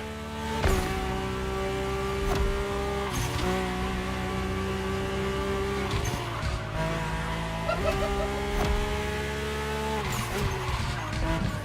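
Mercedes-AMG One in The Crew Motorfest, a high-pitched hybrid engine screaming through gear shifts and revs with tire squeal, steady and close throughout.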